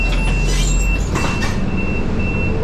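Inside a Rapid KL city bus travelling from Selayang toward Kota Raya, with a steady loud rumble of the engine and road and a faint constant electronic whine, with no voices.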